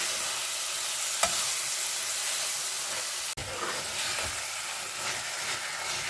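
Tomatoes frying in oil for paneer bhurji, a steady loud sizzle and hiss with faint stirring clicks, continuous and close with no talk.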